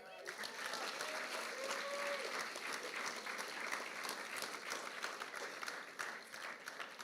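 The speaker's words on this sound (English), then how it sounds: "I'm all ready to give them another big clap" An audience claps for the athletes at a school athletic awards ceremony, producing a dense, sustained round of applause that runs steadily for about seven seconds, heard from a moderate distance.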